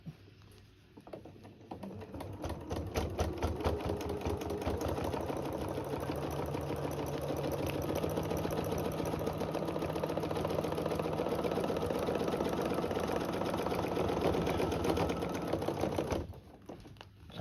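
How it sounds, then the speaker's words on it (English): Sewing machine stitching a mini runner in one long steady run of rapid, even needle clatter lasting around fourteen seconds, fairly close. "I want to sew up and back, and I want to come about 3/4 of the way up"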